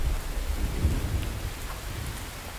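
Steady rain with deep rumbling thunder in the video game The Infected. The downpour is continuous and close, and the thunder rolls heavily low underneath.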